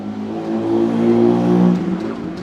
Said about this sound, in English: the tuk-tuk that just went by